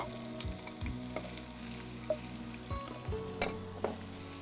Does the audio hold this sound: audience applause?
no